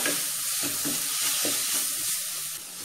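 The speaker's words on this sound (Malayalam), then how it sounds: "അതിലോട്ട് അരിഞ്ഞു വെച്ച തക്കാളി ഇട്ട് കൊടുക്കുക" Chopped tomatoes sizzle and hiss as they go into spiced masala frying in a pan for a chickpea kadala curry, a steady, close frying crackle with faint stirring scrapes and no voices.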